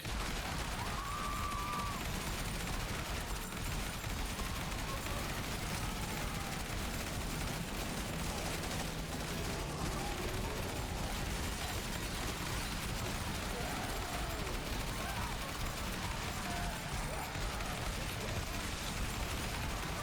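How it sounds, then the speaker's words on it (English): A shotgun firing in rapid minigun-like succession in the zombie shooter Zombie Survivors, a dense unbroken stream of shots and game effects holding steady at high level throughout. "You can see our shotgun's doing relatively decent."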